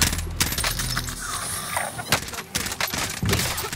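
Gunfire in a shooter video game, with bursts of rapid shots and single cracks over a few seconds alongside other game noise.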